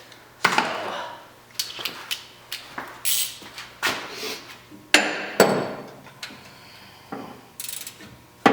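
Wrench work on a belt bolt of a 1973 Chevy Camaro engine: a string of sharp metallic clicks, taps and ratcheting bursts at irregular intervals, close up, with no talking.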